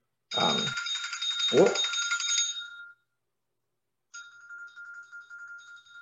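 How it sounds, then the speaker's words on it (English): A work phone rings with a trilling notification bell in two long bursts, the first loud and near, then a pause before a softer repeat, with a few vocal sounds mixed into the first burst. "don't know how to turn that notification off. That's the work phone."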